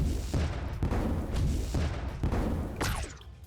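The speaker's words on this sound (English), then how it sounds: "Thankfully the cannons both targeted the same enemy and killed it." Cannons firing in the Cross Blitz card game, a rapid run of loud, punchy booming blasts in close succession, each with a sharp attack and rumbling tail, ending with a swooshing effect.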